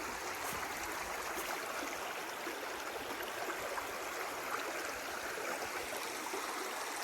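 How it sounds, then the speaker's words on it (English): A creek in the West Virginia Appalachian mountains rushes over a tilted rock bed, a steady, fairly close hiss and babble of flowing water with no voices. "this creek just slams into the rock bed"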